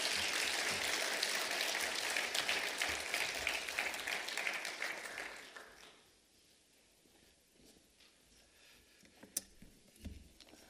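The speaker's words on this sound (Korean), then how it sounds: "우리 목사님 나오실 때 박수 한번 하나님 드리겠습니다." A church congregation applauds steadily and fairly loudly for about six seconds as a pastor comes forward, then the clapping fades to a quiet room with a few scattered claps.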